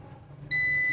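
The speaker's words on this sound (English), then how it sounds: "first we need to listen or hear the beep sound" A Sunglow VMII 5000 unit gives a steady, loud, high electronic beep on power-up, starting abruptly halfway through after a low background hum and sustaining to the end.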